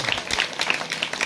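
A church congregation claps together in thanks to Jesus during a healing prayer service, a brief burst of dense, crowd-wide applause without any spoken voices.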